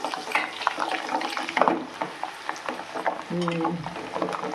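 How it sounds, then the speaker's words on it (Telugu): Ingredients for amla pickle fry in a pan with a bubbling sizzle and intermittent stirring scrapes; a brief tonal sound rises near the end. "కొంచెం ఫ్రై అవుతున్నాయి."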